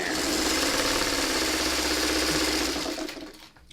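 A sewing machine stitching a Double Irish Chain quilt runs in a steady, fast, loud whirring rattle for about three seconds, then slows and stops.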